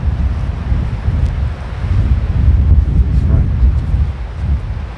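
Steady wind gusting across an open golf course, a broad low rumble that swells and eases throughout, heard alone without talk.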